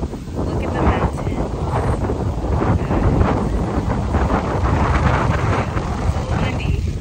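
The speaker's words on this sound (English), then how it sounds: "It's windy." Strong wind buffets an outdoor microphone on a hike overlooking a mountain on Oahu, Hawaii, a loud continuous rumbling roar that fills the whole stretch with no pauses.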